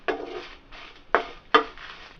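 Dried red chillies dry-roasting in a pan for gongura (red sorrel leaf) chutney, giving a few short scraping, rattling bursts as they are stirred, close and fairly quiet, with no talk.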